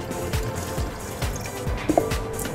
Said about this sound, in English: But I'm just putting a little in here.